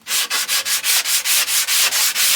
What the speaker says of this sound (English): Now I'm going to take a sanding block